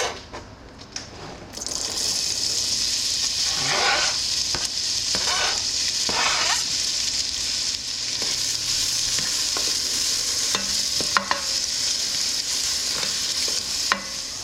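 A whole diced onion sizzles in melted fat in a pan over medium heat, a steady bright frying hiss with several stirring scrapes and clicks of a utensil against the pan, close and continuous.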